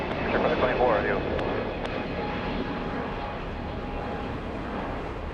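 An Air Canada airliner taking off from runway 25 right, its engine roar a steady, moderately loud drone, with brief radio chatter from air traffic control at the start.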